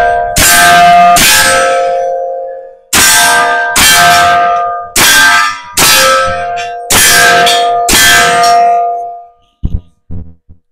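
A KelTec SUB-2000 carbine in .40 caliber fires a string of about seven loud, overloaded shots with ringing tails, spaced roughly a second apart, ending in a few shorter quieter bursts.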